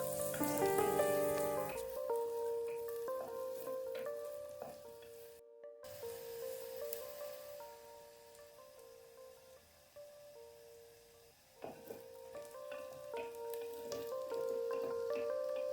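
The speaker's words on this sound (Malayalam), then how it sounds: "ഇനി വീണ്ടും നന്നായിട്ട് ഇളക്കുക" Fish curry masala with shallots, garlic and ginger sizzles quietly in a pan under a soft, even frying hiss, with occasional stirring scrapes and a few tonal background sounds.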